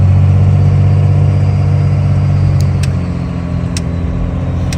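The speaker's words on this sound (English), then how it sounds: "My exhaust under my truck's leaking a little bit." A heavy truck engine with a slightly leaking exhaust under the passenger side drones loudly and steadily while pulling uphill on Texas 144 towing a rig with a skid steer, its tone shifting briefly partway through, with no talk.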